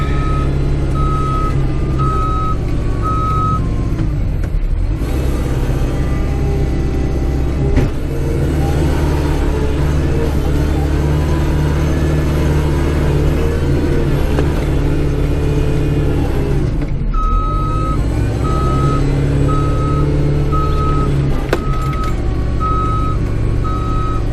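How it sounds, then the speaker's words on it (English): Snow plow truck backing up with its reversing beeper sounding in steady, evenly spaced beeps over a loud, constant engine rumble, the beeping pausing midway before resuming. "I'll turn on my beeper seeing we're out here."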